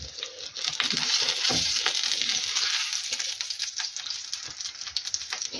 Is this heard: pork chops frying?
yes